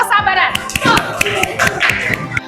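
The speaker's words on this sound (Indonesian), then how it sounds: "Beri tepuk tangan sekali lagi untuk kelompok kesabaran." A classroom of children applauds a student group after its presentation with a burst of quick, close, uneven hand claps while voices chatter underneath.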